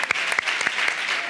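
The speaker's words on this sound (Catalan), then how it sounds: "Un fuerte aplaudimiento." A studio audience applauds on a comedy talk show, giving a brief, dense burst of steady clapping at close range with sharp individual claps standing out.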